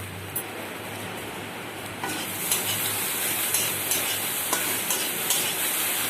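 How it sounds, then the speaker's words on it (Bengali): Masala spices fry in a hot pan for an okra, potato and onion curry. A steady, close sizzle carries on throughout, with faint stirring scrapes and taps. "ভালো করে মশলা ভেজে নিলাম।"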